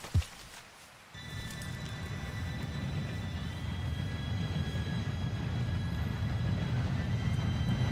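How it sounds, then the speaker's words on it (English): A train approaching in the video game Red Dead Redemption 2: a sharp knock, then a steady low rumble that grows louder, with a faint high whistling tone overhead. "Train should be here any minute."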